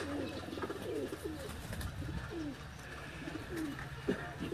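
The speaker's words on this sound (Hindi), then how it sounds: "इस बच्चे के हाथ में जो कबूतर आप देख रहे हैं" A pigeon of the Sialkot breed coos repeatedly on a rooftop in soft, low rolling phrases, with faint chirps from other birds around it.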